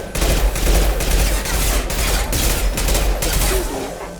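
Dense, loud bursts of rapid gunfire from the video game Mass Effect 2, a continuous fusillade with a few pulsing gaps and no speech.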